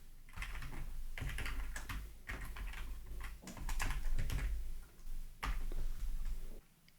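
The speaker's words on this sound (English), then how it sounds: "I'll just cut that, pressing Ctrl X." Computer keyboard typing with a Ctrl X shortcut press, irregular clusters of quiet close key clicks separated by brief pauses.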